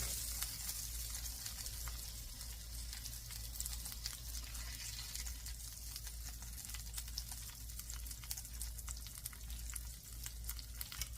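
Bread sizzling and toasting in a pan for patty melts, a steady soft frying hiss continuing throughout.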